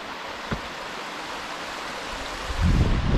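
A shallow mountain stream in Tasmania running across the top of rock, a steady close rushing wash that swells louder near the end, with one brief knock.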